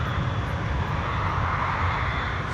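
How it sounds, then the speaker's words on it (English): An Avianca airliner taking off from Medellín fully fuelled, a loud continuous roar of jet engines holding steady throughout. "Avianca 52 takes off from Medellin with its maximum allowable fuel load"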